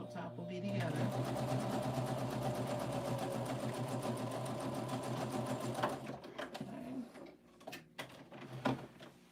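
Sewing machine stitching pieces of a star quilt top, a steady continuous mechanical hum and rapid needle clatter for most of the stretch, then stopping into a few short knocks and handling sounds near the end, with some faint background talk.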